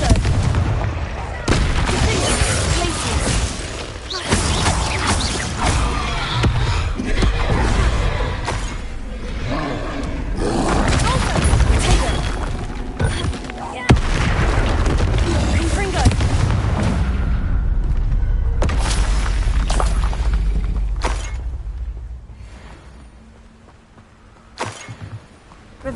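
Confringo blasting-curse explosions in the Hogwarts Legacy video game, a dense run of loud booming blasts and rumbling impacts that repeat one after another across the whole stretch.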